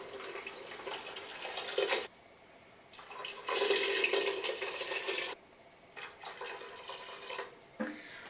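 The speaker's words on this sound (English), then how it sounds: "we are going to add in our beef broth. We have to add in 5 cups." Beef broth is poured into a pot of French onion soup in bursts, a close splashing gush that stops, starts again and stops in uneven pours.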